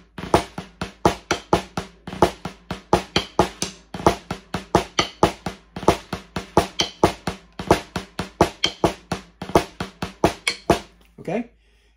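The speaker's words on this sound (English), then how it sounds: "the cha-cha on regular speed sounds like this" A drum kit keeps a cha-cha beat at regular speed, with crisp, evenly spaced hits repeating in a tight, steady pattern, up close and played alone.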